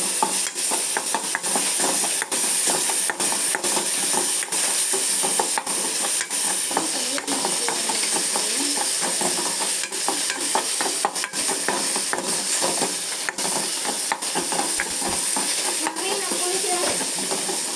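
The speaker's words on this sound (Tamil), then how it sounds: "இதை கொஞ்சம் எண்ணெயில் வணக்கணும்." Ingredients for a bonda filling fry in oil with a steady broadband sizzle, close by, punctuated by frequent sharp scrapes and clicks of a spoon stirring the pan, continuous for the whole stretch.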